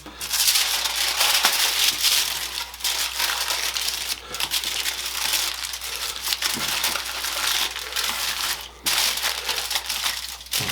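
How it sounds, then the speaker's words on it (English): Large burrito-size tortillas being wrapped in non-stick foil, a close, steady crinkling and crumpling of foil with brief pauses, no talking. "we're going to wrap these in the foil"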